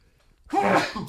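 A single sharp sneeze, brief and close, after a moment of quiet.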